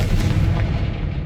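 A Confringo spell blast from the video game Hogwarts Legacy, one loud booming burst with a rough, fiery body that rings out and fades over about a second.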